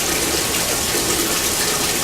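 Loud, steady rush of crystals and solvent pouring into a filter funnel without a break, a full gushing wash close by with no talking.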